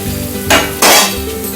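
Gunta ponganalu frying in an oil-filled pan while a spoon turns them, with a steady sizzle under two bursts of scraping and clinking as the spoon moves against the pan.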